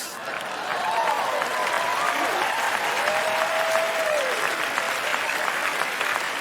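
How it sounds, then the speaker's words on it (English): A large theater audience at a TED talk applauds continuously, a dense, even wash of clapping that swells in and holds for several seconds with faint crowd noise underneath. "You don't have to hold the applause inside, Ted. You can let it out."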